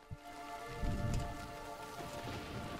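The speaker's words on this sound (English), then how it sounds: "it can go from sort of a light sprinkle all the way to a massive downpour" Heavy rain in Warframe falls as a steady, soft patter and hiss, with a brief low rumble swelling partway through, faint and ambient with no voices.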